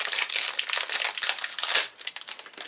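Packaging for washi tape in a Bible journaling kit crinkles and crumples close by, a quick run of sharp, dense rustles for a few seconds with no talking.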